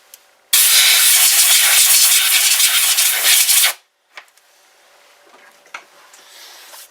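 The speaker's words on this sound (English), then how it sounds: "We got it taken out with the Dremel." A Dremel rotary tool grinds out a CZ 527 .17 Hornet rifle stock for glass bedding. It gives a loud, harsh, continuous hiss for about three seconds, then stops, leaving faint scattered clicks and handling noise.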